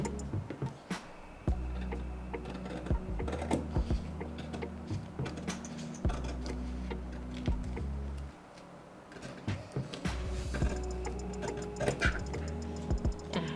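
Fabric scissors cut fabric along the straight and curved lines of a sewing pattern. Repeated crisp snips and clicks come up close, separated by short pauses, over a low background hum.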